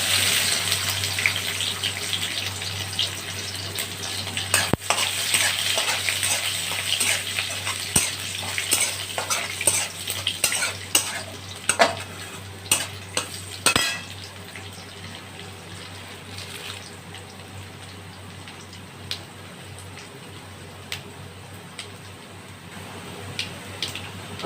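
Garlic frying with black mustard seeds in hot oil in a pan, a strong crackling sizzle with sharp pops and spatula scrapes in the first half, then easing to a quieter steady hiss.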